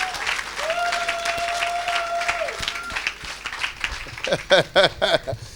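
A church congregation applauds in a hall, with steady broadband clapping throughout, a sustained tone running underneath, and a few louder, sharper bursts near the end.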